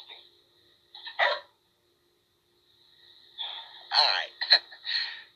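A small dog barks and yips in short bursts, with quiet gaps between, close by and somewhat muffled, one burst trailing into a whine.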